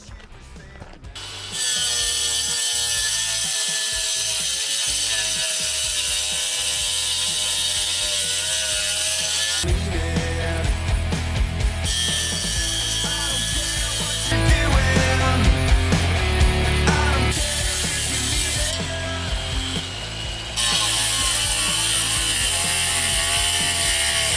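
ProCraft Industrial AG 125C cordless angle grinder cutting into a concrete curb on full disc depth, a loud steady grinding whine with surging bursts as the blade bites in, running alone without talk.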